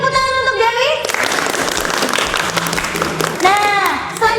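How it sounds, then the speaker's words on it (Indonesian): Students in a classroom applaud their classmate Dewi, a burst of lively clapping that follows a teacher's voice and gives way to her talking again. "Beri tepuk tangan untuk Dewi"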